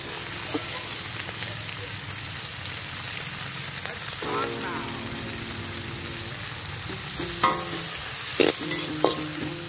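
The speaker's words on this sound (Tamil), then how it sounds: "இதை நல்லா ஃப்ரை பண்ணுங்கள். நல்லா இதை பொன்னிறமாக நல்லா வதக்கிக்கலாம்." Onion, green chilli, cinnamon, cloves, cardamom and other whole spices sizzle steadily in a pan of oil, with a constant crackling hiss broken by several scraping stirs and brief metallic clinks of a spoon against the pan.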